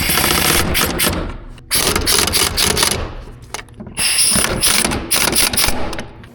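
A ratchet tightens the seat bolts inside a 2014-2023 Jeep Cherokee with dense, rapid clicking in loud close bursts. Short pauses break up the bursts. There is no talking.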